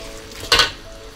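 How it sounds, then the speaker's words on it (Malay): Kuey teow noodles, fried Malay home style, hit a hot wok with a single short, loud sizzling hiss that fades quickly against a quiet background. "Ni kuih tiaw goreng ni kita masak dia ataupun kita goreng dia basah-basah sedap"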